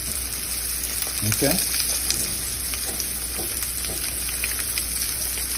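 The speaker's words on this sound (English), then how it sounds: "so you can get all of that nice sear on the meat" Meat sears in a hot pan with a steady broadband sizzle, joined by a few brief scrapes or pressing sounds, while a person speaks briefly over the frying.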